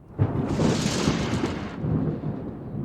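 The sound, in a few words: thunder during a summer thunderstorm in the mountains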